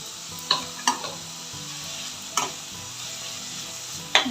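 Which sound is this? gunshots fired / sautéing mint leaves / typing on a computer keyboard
sautéing mint leaves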